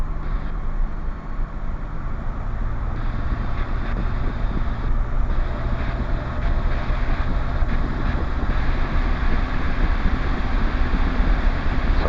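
Small training aircraft engine held at 4,000 RPM during pre-flight checks, a steady loud cockpit drone mixed with rushing wind-like noise, continuous throughout with no talk.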